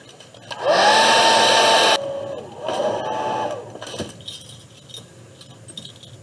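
A hair dryer blows loudly on a watercolor landscape painting for about a second, cuts out, then runs again more softly for another second before a click and quiet room noise.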